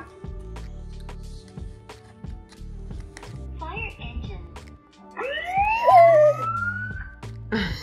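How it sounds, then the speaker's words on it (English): A rising siren wail sweeps upward over background chatter and a voice, fairly loud and close, following quieter talk and clatter. "The siren."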